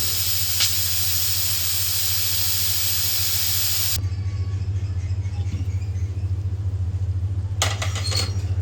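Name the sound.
pressure cooker whistle being removed, steam hissing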